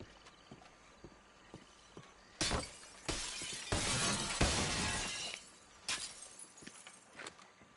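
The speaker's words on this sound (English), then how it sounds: "I wonder if they use the same glass breaking sound that they do from GTA" Glass shatters in a burst of crashes midway through a Red Dead Online session, loud against a quiet background, with sparse soft thuds like distant hoofbeats before and after.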